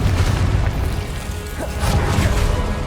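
Confringo fire spell blasts in the Hogwarts Legacy video game, a dense continuous rumble of booming explosions and crashing impacts, loud and sustained throughout with heavy low-end thuds.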